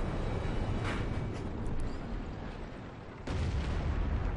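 A tank cannon firing in World of Tanks, on the FV215b, comes through as a dense, loud boom over heavy low rumble, with a second sharp blast about three seconds in, and no voice over it.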